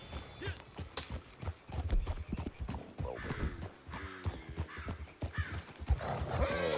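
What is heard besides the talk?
horse in a video game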